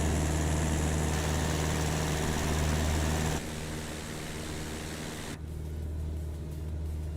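A steady, loud aircraft engine drone from Microsoft Flight Simulator during a bush flight in New Zealand, a continuous hum whose tone shifts twice as the view or power changes.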